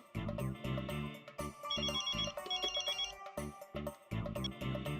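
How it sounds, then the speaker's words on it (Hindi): Telephone ringtone rings during an outgoing call in a Hindi sitcom household, a repeating electronic ring pattern heard clearly over background music. "मैं तो उसको फोन लगा रहा हूँ"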